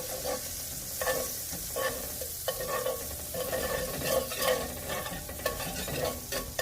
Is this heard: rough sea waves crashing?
no